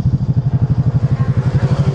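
Motorcycle engine idling close by at a riders' meetup in Rizal, a loud, even low-pitched throb pulsing rapidly and steadily with no other sounds over it.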